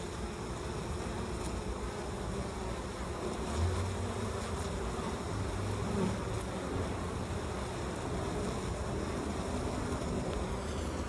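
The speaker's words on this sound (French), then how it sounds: "Elles vont chercher le miel et elles le ramènent dans la ruche." Honey bees fly in and out of a hive in a continuous close buzzing drone, with individual bees passing louder now and then.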